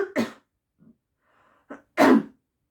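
One person coughs: a sharp burst, a faint breath, then another loud harsh cough, close and clear in a quiet room.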